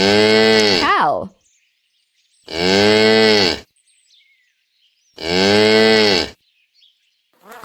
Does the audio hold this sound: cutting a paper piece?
no